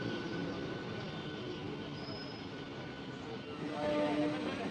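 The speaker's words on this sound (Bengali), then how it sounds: "ওদিক দিয়ে দেখো সাউদার্ন রেলওয়ের একটা লোকাল আসছে এশিয়া হাওড়া যাবে" A Southern Railway local train bound for Howrah, nearly empty and likely arriving from Kharagpur, rumbles past at a station at night as a steady loud roar, with faint wheel squeals and brief tonal whines near the end.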